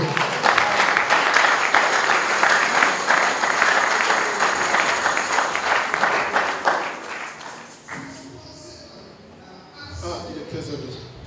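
A church congregation applauds the Lord, sustained loud clapping and crowd noise that fades out after about eight seconds, with a voice and scattered sounds trailing behind.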